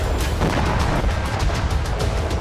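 Repeated heavy blasts and booming thuds as explosives bring down a Hezbollah tunnel network in Nabatieh, a rapid series of strong, close impacts over a constant rough background.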